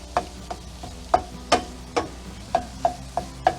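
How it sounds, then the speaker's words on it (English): Eggs cook in a frying pan, a low sizzle running under a series of regular light taps and scrapes of a utensil against the pan, about ten evenly spaced strikes, close and clear with no talking. "I'm cooking in real time, so you can see how long it takes when you cook eggs"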